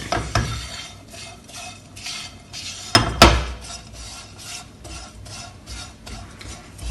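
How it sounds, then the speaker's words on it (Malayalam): Roasted spice powders stirred in a hot pan with the flame turned off, giving a few sharp scraping clacks of a spoon against the pan over a soft, continuous rustling hiss, close and fairly quiet with no talking. "തീ ഓഫ് ചെയ്ത ശേഷം ഇതിങ്ങനെ കുറച്ചൊന്ന് ഇളക്കി കൊടുക്കണം."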